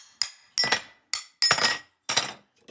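Stacks of fusible COE 96 glass being cut and handled for loading a glass pull, giving five sharp clinking impacts, each ringing briefly before fading, close and loud with no talk.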